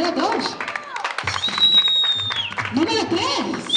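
Guests at a children's party hosted by a clown applaud to vote for a contestant, with a dense patter of clapping under lively voices and a sustained high whistling tone partway through.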